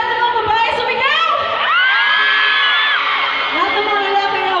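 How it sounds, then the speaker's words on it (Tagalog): A concert crowd at an outdoor Earth Day music event screams and cheers in a loud, sustained roar, with high-pitched girls' shrieks rising above the mass of voices. "Pare ba lahat ng mga babae sumigaw?"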